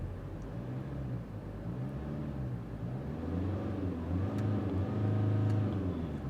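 A Land Rover Evoque engine rumbles at idle, then revs up in a steady rising roar, close and fairly quiet, with no talk.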